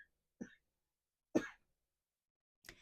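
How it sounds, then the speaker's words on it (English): Two or three short, isolated coughs, quiet and close, separated by silence, from a woman pausing during a tarot reading. "Excuse me, I'm going to cough."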